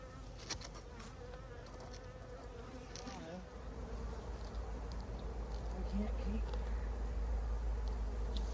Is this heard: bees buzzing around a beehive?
yes